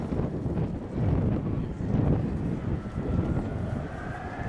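An Avro Vulcan XH558 delta-wing bomber flying a display at RIAT 2015 gives a steady, loud, rumbling jet roar with wind buffeting the microphone. No one speaks.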